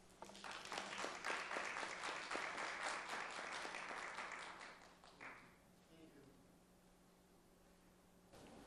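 An audience at a financial planning seminar on retirement claps to welcome a speaker, a dense burst that rises and then fades to scattered claps after about five seconds, leaving quiet room tone.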